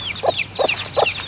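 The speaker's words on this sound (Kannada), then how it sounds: "ಸೊ ಇಲ್ಲಿ ನೋಡಿ ನಮಗೆ ಕೋಳಿ ಎಲ್ಲ ಉಂಟು" Farm chickens cluck close by in three quick, evenly spaced bursts of squawking notes, loud and clear over a quiet outdoor background with no talk.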